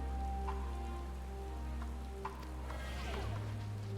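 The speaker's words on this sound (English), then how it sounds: "We're in the rain." Rain falling in Garlemald in the game Final Fantasy XIV Endwalker, an even pattering hiss lasting throughout, set under sustained tonal game music with no speech.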